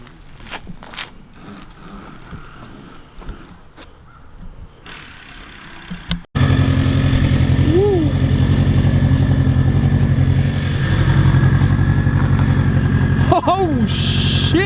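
Mitsubishi Lancer Evolution drift car with a worn clutch fires up after a few quiet seconds of shuffling and handling noise, then runs loud and steady with a couple of brief blips, close by.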